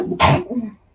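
A single sharp human sneeze bursts out close and loud, followed by a short low vocal trail.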